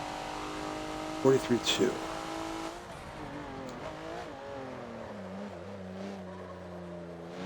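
Race car engine in the Forza racing game revving as the throttle is stabbed on the Homestead super mini track, a steady droning note that rises and shifts in pitch throughout, with someone talking over it.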